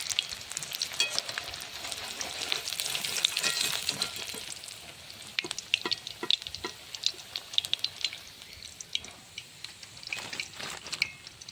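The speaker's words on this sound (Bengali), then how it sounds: "বাকিটা যা আছে ওরকমভাবে ভেজে নিব আমার পকোড়াগুলো" Chicken pakoras deep-frying in oil, a dense continuous crackling sizzle with irregular sharp pops and occasional spoon clicks, close and steady throughout with no speech.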